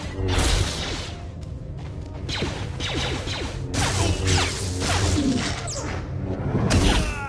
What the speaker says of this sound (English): you have an ability to deflect some of those blaster bolts